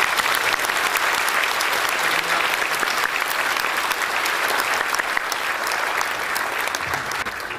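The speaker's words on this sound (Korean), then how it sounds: "우리 박수로 환영하겠습니다." A congregation claps continuously to welcome visiting pastors, elders and deacons at a church service, a dense, even round of applause that holds steady throughout.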